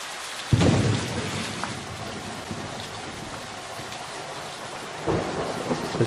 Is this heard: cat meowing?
no